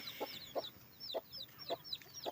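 Native country hens cluck in a steady rhythm, a close, regular series of short clucks, while their newly hatched chicks peep high and thin between them.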